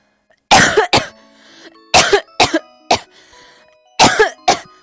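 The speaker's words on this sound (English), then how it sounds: "let's have a coughing fit" A coughing fit from a person who says something is stuck in their throat: three bursts, each of two or three harsh coughs, loud and close with short pauses between.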